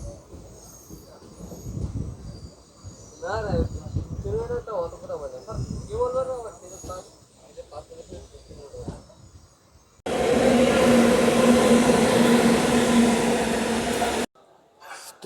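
A passing train heard from aboard a late-running Howrah–Secunderabad special passenger train halted near an outer station in India: a sudden loud, steady broadband rush of wheels and carriages lasting several seconds, preceded by speech.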